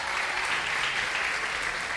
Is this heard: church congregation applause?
yes